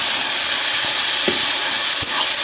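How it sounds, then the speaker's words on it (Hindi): Kochai greens hiss and sizzle loudly in a pan as a spoon stirs them, with a few faint scrapes and knocks of the spoon under the constant frying noise. Nobody talks. "तब ये चम्मच चला दे संगवारी हो।"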